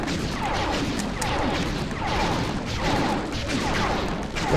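Rapid gunfire from the video game Sly 3, a dense continuous barrage of overlapping shots and crashes at steady loudness with no talking.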